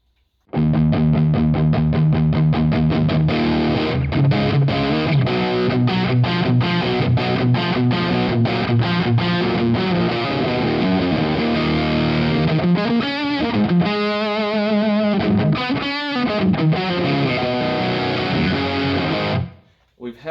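Electric guitar played through a Wampler Ratsbane distortion pedal with the gain set below halfway, sustained chords and single notes ringing out loud and alone with a mid-level crunchy drive.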